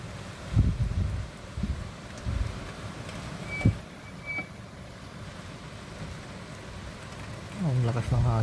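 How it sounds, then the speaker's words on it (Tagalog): Strong storm wind blows during a typhoon in the Philippines, a broad rushing roar with gusty swells and a few sharp buffets, while a voice speaks briefly near the end. "Oh, ang lakas ng hangin talaga, oh."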